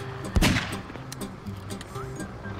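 Gunfire in the Garry's Mod video game cracks once loudly near the start, followed by a busy, continuous background of game noise.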